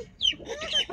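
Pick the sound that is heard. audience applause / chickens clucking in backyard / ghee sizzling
chickens clucking in backyard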